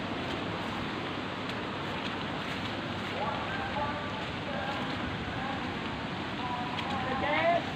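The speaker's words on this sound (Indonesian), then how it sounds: "hujan guys." Steady rain falls on a rice-field edge during a fishing outing, a dense, continuous hiss holding level throughout, with faint voices murmuring underneath.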